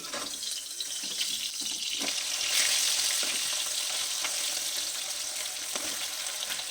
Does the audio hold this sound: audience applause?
no